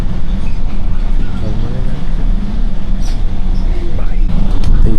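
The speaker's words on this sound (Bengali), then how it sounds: "এই 2 নম্বর ট্রাম।" The number 2 tram rolling through Lucerne, Switzerland, in the rain, heard from on board as a loud, continuous rumble with faint rattling and indistinct voices murmuring underneath.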